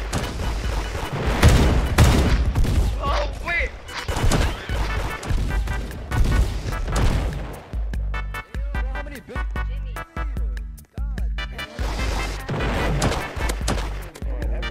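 Rapid bursts of gunfire in the Roblox game Da Hood, loud, repeated shots and impacts clustered across the clip with short pauses between volleys.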